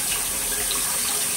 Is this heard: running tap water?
yes